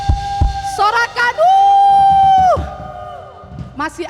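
A church congregation at a Christmas Day service whoops and cheers, with one long sustained shout rising over scattered crowd voices, then the noise dies down to murmurs.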